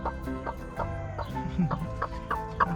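An irritated broody hen grumbles and clucks from a nest box in an urban permaculture garden: repeated close, rhythmic clucks that rise into louder, sharper calls near the end.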